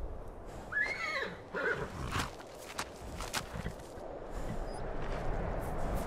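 A horse whinnies near the start in Skyrim Special Edition, followed by hoof clops and footsteps over a constant outdoor ambience.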